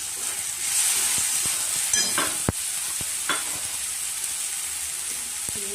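Bottle gourd and pumpkin chunks fry with turmeric in a pan, giving a steady hissing sizzle with a few sharp clinks and scrapes from the stirring spoon, close up and with no talking.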